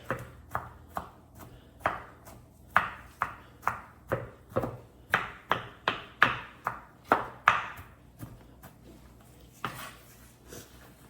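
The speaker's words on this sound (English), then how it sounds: "Cut up your garlics also, nice and small." A knife chops garlic steadily on a cutting board, about twenty crisp thuds in an even rhythm, close and clear with no talking.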